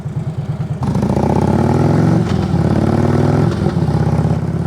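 A motorcycle ridden at about 30 mph on a swerving drill, its engine close and loud with a rapid putter that builds into a steady, strong drone as it accelerates, then holds its pace.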